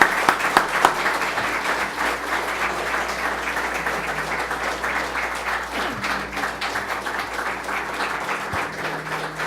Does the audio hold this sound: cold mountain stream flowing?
no